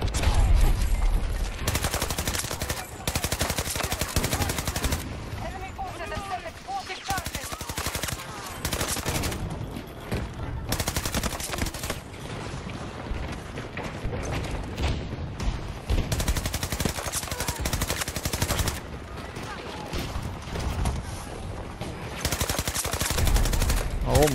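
Continuous automatic gunfire in a Battlefield 2042 multiplayer match, loud, close rapid bursts that run almost unbroken, with short pauses between volleys.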